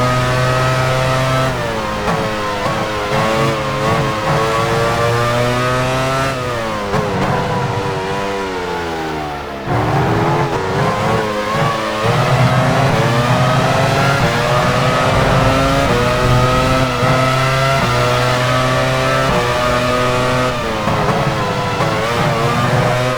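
Formula 1 engines from the racing game F1 Challenge 99/02 at a 1999 French Grand Prix at Magny-Cours, loud high-pitched wailing revs climbing and dropping through gear shifts, continuous and dense with no talk.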